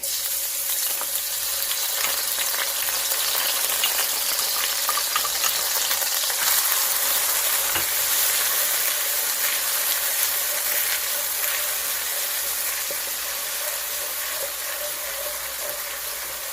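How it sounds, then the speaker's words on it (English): Garlic hits a hot pan and sizzles loudly and continuously, a dense crackling fry with light stirring throughout and no voices. "Let's go ahead and add in our garlic."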